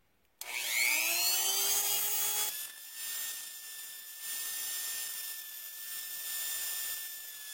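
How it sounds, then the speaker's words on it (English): A Dremel rotary tool grinds a little off the edge of a center cap, starting abruptly with a high, close whine that spins up, then settles into a steady, slightly fluctuating grinding drone. "I'm going to go ahead and grind down just a little off the edge"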